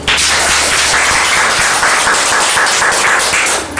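Loud, dense applause from a large audience welcoming two guests onto a stage, continuous clapping that fills the whole stretch without a break.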